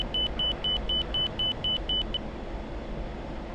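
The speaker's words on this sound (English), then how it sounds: "I really want to turn that beep down a bit" An F-16 Viper cockpit warning beep sounds during high-speed airshow practice: eight quick, evenly spaced piercing beeps over a steady jet rumble, then the rumble continues alone.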